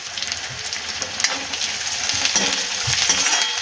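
Onion frying in a pan with tomato and fresh coriander stirred in, a loud, steady close sizzle with scraping stir sounds and occasional soft clinks.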